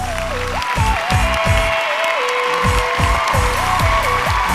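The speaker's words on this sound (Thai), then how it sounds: "แล้วก็ต้องขอเสียงปรบมือต้อนรับนะครับ ครอบครัวสุขเสน่ห์ทุกๆท่านด้วยครับ" Steady applause from a crowd over loud music with a thumping beat and a bright melody.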